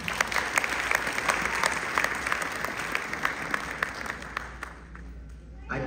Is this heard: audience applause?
yes